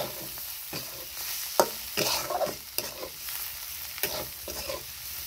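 Brinjal bhaji with coarsely chopped coriander is sautéed in a pan, with rhythmic spatula scrapes and stirs every second or so over a soft, continuous sizzle, close and fairly quiet.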